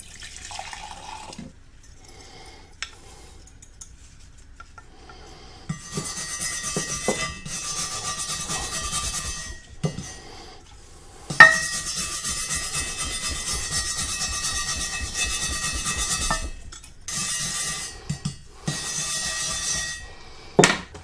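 Scrubbing of an aluminum intake manifold with acetone: bursts of wet, rubbing friction that start and stop, loud in stretches with quiet pauses between, and no talking.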